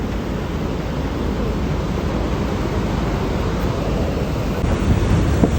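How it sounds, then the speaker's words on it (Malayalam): Niagara Falls roars as a steady, dense wash of water noise, with strong wind buffeting the microphone throughout and no talk. "നല്ല കാറ്റാണ്. വലിയ വാട്ടർഫോൾ കണ്ടോ?"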